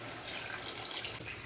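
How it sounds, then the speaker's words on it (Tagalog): Water pours steadily into a cooking pot for rice bukhari with chicken, a close, even hiss and splash without talk. "kailangan natin lagyan ng tubig"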